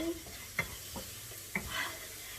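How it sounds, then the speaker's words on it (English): Low, steady sizzling of food with asafoetida frying in a pan, broken by a few sharp scrapes and taps of a utensil stirring. "So that's frying away."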